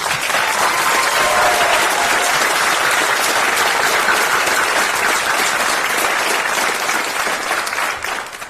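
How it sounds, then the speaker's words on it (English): Sustained, loud applause from a crowd at a police academy graduation ceremony for the 114th class, steady dense clapping that tapers slightly at the very end. "So please join me in applause for the 114th Police Academy."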